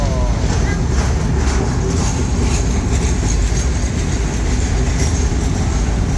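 A train from Viterbo rolls past near Rome, giving a steady, loud rumble of wheels and carriages that lasts throughout with some faint clatter.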